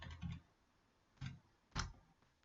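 A few quiet computer keyboard key presses in Excel, a quick double tap followed by two separate clicks, close and faint against a low background.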